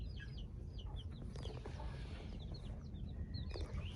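Backyard chickens in a muddy coop, with soft clucks and short high calls scattered over a low background rumble, fairly close and quiet.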